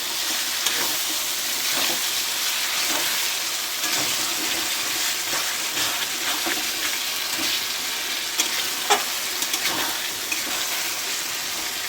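Chilli chicken in tomato sauce being mixed in a frying pan, a continuous bright sizzle with occasional soft scraping stirs throughout, close and steady, with no talking.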